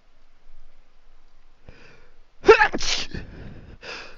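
A single sharp sneeze bursts out close to the microphone during a tabletop role-playing session, preceded by a short intake of breath and followed by a fainter breathy trailing sound.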